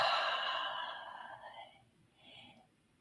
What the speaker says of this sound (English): Hand on heart, deep breath in.